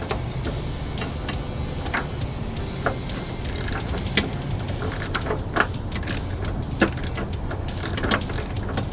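A ratchet drives a bolt in while lift springs go into a Jeep Grand Cherokee WJ, sounding as a continuous run of close metallic ratchet clicks and clanks with no talking.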